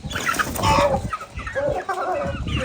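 Chickens cluck and squawk close by, several birds overlapping in a busy, continuous stream of calls.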